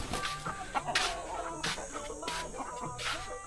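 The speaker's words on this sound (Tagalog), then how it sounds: "May mga alagang manok." Pet chickens cluck repeatedly nearby in short bursts, with soft farmyard background noise between calls, beside a hut on a farm.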